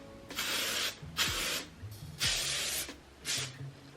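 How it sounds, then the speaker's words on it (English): Hairspray sprayed from an aerosol can indoors in four separate hissing bursts of about half a second to a second each, with short pauses between them, close and moderately quiet. "Whew, a lot of hairspray."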